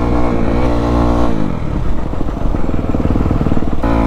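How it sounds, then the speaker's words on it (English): A Kawasaki KX250F dirt bike engine revs hard under throttle, a loud, continuous high-pitched roar that climbs and stutters as the throttle is worked, close up with no talking. "It feels like every time I pull the throttle, it just wants the wheelie so hard."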